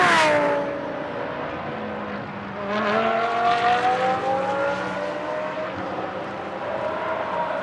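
The WRT Audi GT race car driven by James Nash screams past at close range during free practice at Moscow, its engine note falling sharply, then climbing again as the car accelerates away.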